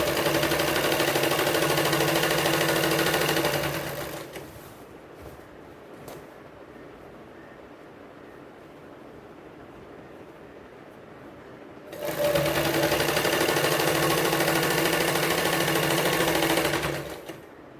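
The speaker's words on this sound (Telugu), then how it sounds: "ఇదిగో చూడండి, ఫస్ట్ ఈ బెల్ట్లు అతుకుతున్నాను." A sewing machine stitches belts onto a school uniform skirt, running loud and steady in two long bursts with a quieter pause between them.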